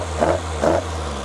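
Cold engine of a Westfield sports car fitted with programmable electronic ignition idling with a steady low drone, two brief blips of rising revs standing out near the start.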